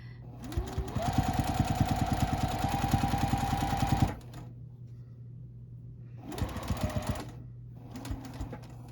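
A sewing machine runs in a steady fast burst of stitching as it sews binding onto a quilt, stops, then runs in two shorter bursts, its motor whine and needle rattle close and clear.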